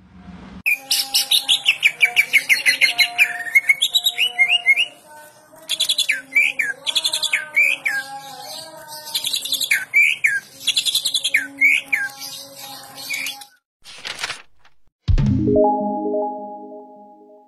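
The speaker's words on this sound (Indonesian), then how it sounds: "Dari segi suara, cucak ijo Kalimantan tidak terlalu nyaring dan lantang, namun punya kelebihan" A green leafbird (cucak ijo) sings a long, varied run of bright chirps, whistles and trills, clear and close, ending with a few short separate notes.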